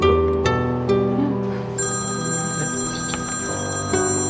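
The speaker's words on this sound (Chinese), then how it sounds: "不好意思啊，我去接个电话" A telephone rings with a bright electronic ringtone, repeating tonal pulses at a steady rhythm, fairly loud and close in an indoor setting, no speech over it.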